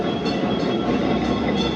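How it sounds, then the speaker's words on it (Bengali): A tram rumbles past close by on a city street, a steady loud rolling roar of wheels on rails with faint clatter, continuous throughout with no voices. "ট্রাম যাচ্ছে"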